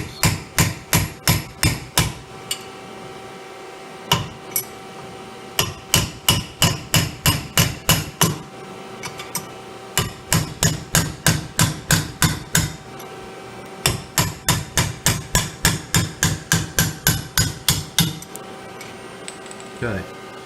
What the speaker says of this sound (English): you'll have to come from this side with your punch and catch on the back side of the